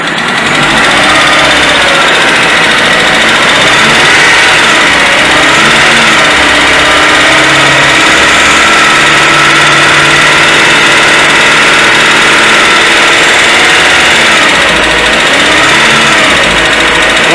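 A 2010 Citroën C3 engine held steady at about 2000 RPM, a continuous, loud, even mechanical drone with no breaks, heard up close and alone without any talk over it.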